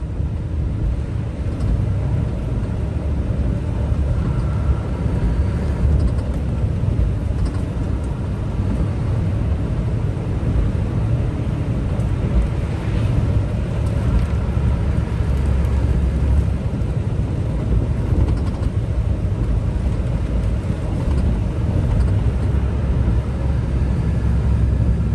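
Steady interior road noise from a car taking a corner on a rural road in southern Scotland, a continuous low rumble of engine and tyres with no breaks, fairly loud and close, no voices.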